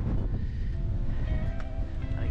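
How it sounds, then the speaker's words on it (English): Strong wind blowing outdoors on the Isle of Skye in November, a steady loud roar buffeting the microphone throughout with no let-up. "so yay for the wind"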